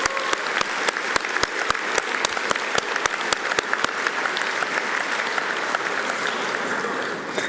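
A graduation audience applauds award winners, broad sustained clapping from many hands in a large hall, with a few sharp, evenly spaced claps standing out near the start before blending into the steady roar.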